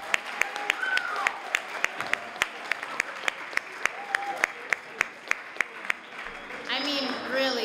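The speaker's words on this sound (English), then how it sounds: "another round of applause for these kids." Audience applause for children who just performed at a Cape Verdean community family event honoring Martin Luther King Jr., steady clapping from a crowd with sharp individual claps standing out, a voice briefly heard over it and louder cheering rising near the end.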